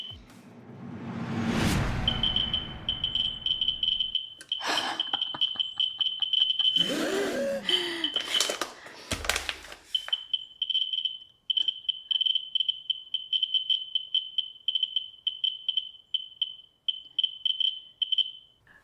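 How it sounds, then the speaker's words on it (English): A Geiger counter near potassium chloride salt gives rapid, irregular clicks crackling steadily over a thin high electronic tone, with a few louder rustling bursts early on before the clicking settles in alone. "I wonder how many more clicks we can hear in this potassium chloride salt."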